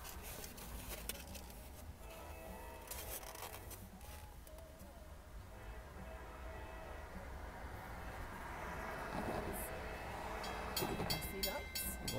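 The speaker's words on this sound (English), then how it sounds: "There's a train coming." A CSX local freight train approaching a crossing in Owensboro, its rumble and rail noise building steadily over a dozen seconds against a steady outdoor background.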